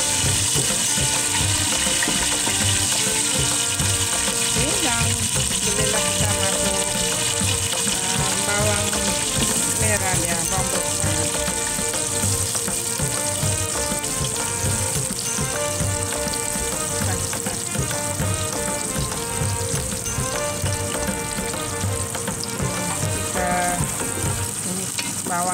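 Onions and dried chillies sizzle while frying for dalca, a constant loud crackling hiss with light stirring clatter, and music plays underneath.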